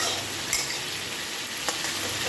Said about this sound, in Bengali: এবার নাড়বো, তো ভাজা হোক।